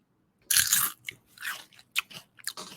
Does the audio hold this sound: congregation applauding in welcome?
no